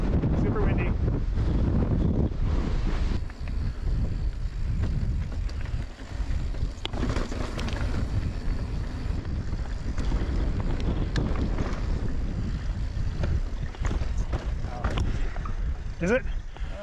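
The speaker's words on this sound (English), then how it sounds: "Awesome views, super windy." Strong wind blowing across an exposed mountain bike trail on the Kokopelli Loops near Fruita, buffeting the microphone in a loud, continuous low roar throughout, with brief voices heard under it.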